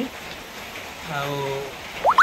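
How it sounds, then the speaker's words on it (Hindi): Heavy rain falls in a steady, dense hiss during an outdoor country-chicken cooking session, with a faint voice and a couple of brief high chirps near the end. "प्रबल वर्षा हो"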